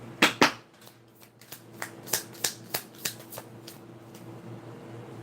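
Tarot cards being shuffled close up, a series of crisp riffling snaps and flicks that start loud and grow softer and more spaced, with no talking.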